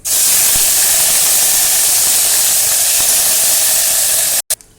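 Ginger-garlic paste sizzles loudly in hot oil while palak paneer cooks: a strong, steady hiss holds for about four and a half seconds, then cuts off abruptly, leaving a short final burst.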